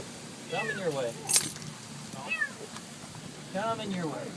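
A kitten trapped inside a car's engine compartment meows in several separate, high, wavering cries spaced a second or two apart, heard over low background rumble while people talk nearby.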